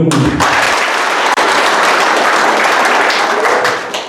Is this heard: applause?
yes